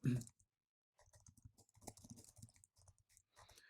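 Fingers type on a computer keyboard, light close clicks in short irregular bursts after a brief pause.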